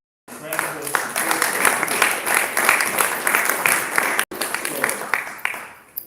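Applause from a conference audience, a dense, loud round of clapping that holds steady for about four seconds, cuts briefly, then resumes and fades out.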